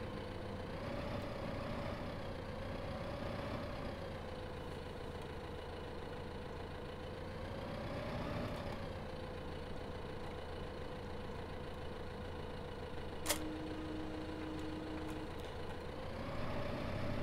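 A tractor engine idles steadily in Farming Simulator 2015, a continuous low drone with a faint rising and falling hum and one brief high click partway through, with no talk.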